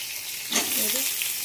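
Pointed gourd, potato and onion fry in a pan, giving a steady, close sizzle that swells into a louder burst of hissing and crackling midway and then holds on.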